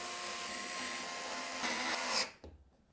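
A power tool drives long radiator screws through case fans into a PC case, giving a steady, close, high-pitched whir that rises briefly in pitch and then cuts off, followed by a faint rattle.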